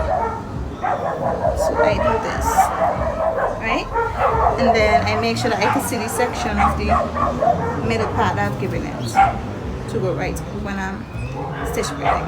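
Dogs bark and yip repeatedly indoors in the background, with some whimpering, while someone talks steadily over them.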